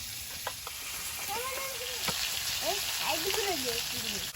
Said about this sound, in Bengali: মাছগুলো ভাজা হয়েছে তুলে নেবো